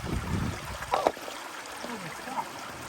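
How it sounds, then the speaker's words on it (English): River water rushes and gurgles over rocks where it flows out into the Atlantic Ocean at Middle Cove, Newfoundland: a steady, fairly faint trickling wash with a few brief splashes and no clear talk. "Above where the water's rushing out from a river here at Middle Cove."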